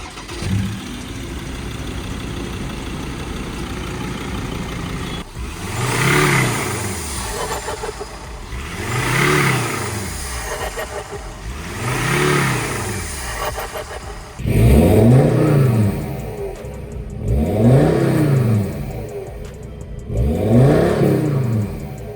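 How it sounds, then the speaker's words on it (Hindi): Turbocharged Ford Endeavour engine revved repeatedly from idle. Six or seven loud blips rise and fall in a steady rhythm over a constant idle hum, with no talking. "अभी आइडल में ऐसी रेस दे रहा हूँ"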